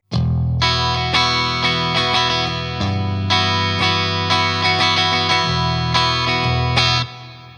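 LTD SC-608B eight-string electric guitar on pickup position 5 through effects, loud distorted chorused chords ringing in a steady series of strikes, each sustaining before the next, ending with a cut-off and brief decay.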